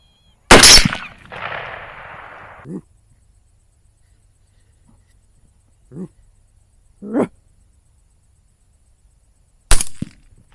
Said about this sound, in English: Shoot it again.